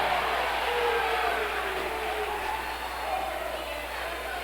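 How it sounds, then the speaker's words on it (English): Crowd at a high school regional dual wrestling final murmuring and jeering at the official, a steady distant roar of voices running under a commentator's talk. "Independence crowd giving our official a little static."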